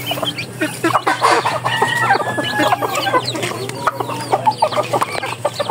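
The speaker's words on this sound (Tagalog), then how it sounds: "Gamay nila ko mga manok, mga amigos amigas." A flock of chickens being fed clucks busily and close, overlapping clucks and short squawks in an uneven, continuous chatter, with a faint crow mixed in.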